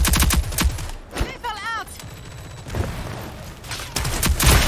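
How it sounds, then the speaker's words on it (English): Video-game gunfire crackles in rapid bursts and scattered single shots amid explosions and a warbling effect, loud and close, with players talking excitedly over the action. "I shot at him!"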